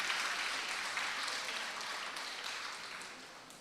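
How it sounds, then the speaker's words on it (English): Audience applause at a two-day college conference fills the room as steady, dense clapping from many hands, evenly sustained and gradually fading slightly over a few seconds with no voices on top. "A big round of applause for yourself for having chosen literature."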